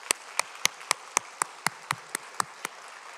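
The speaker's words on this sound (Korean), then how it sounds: "우리 다시 한번 우리 찬양대와 또 우리 김전 찬양 사역자에서 뜨겁게 박수해 주시기 바랍니다." A church congregation claps for the choir and worship leader in a slow, steady unison beat of about a dozen crisp claps, fairly faint and evenly spaced, with no talk over them.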